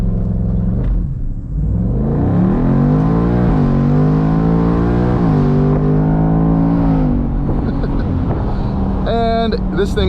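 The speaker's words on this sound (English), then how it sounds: "we can do a quick little launch to test our 0 to 60 times" A 2024 Ford Mustang GT convertible with a Coyote V8 launches hard, its engine note climbing steadily through rising revs in loud, close harmonics before easing off near the end.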